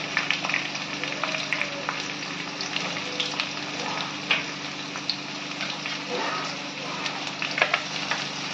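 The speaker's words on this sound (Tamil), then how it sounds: "வெங்காயம் கொஞ்சம் நல்லா வதங்கட்டும்." Crushed shallots frying in a pan for dry red chilli chicken, a continuous close sizzle with crackling pops and occasional stirring scrapes.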